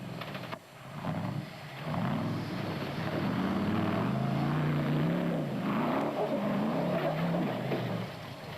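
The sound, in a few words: off-road race vehicles driving, Sun City 400 rally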